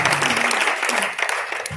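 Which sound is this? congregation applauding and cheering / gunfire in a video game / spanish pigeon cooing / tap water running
congregation applauding and cheering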